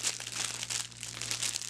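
Crinkly plastic packaging from a boxed Vox Machina Kickstarter reward being fiddled with and pulled at, a continuous close-up rustle and crackle of soft bursts lasting the whole moment, with no talking.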